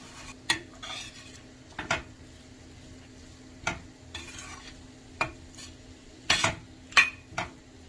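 A spoon stirs and scrapes masala in a pan while it sautés for Indian-style veg pasta, with sharp intermittent clinks and scrapes over a faint sizzle, no talking.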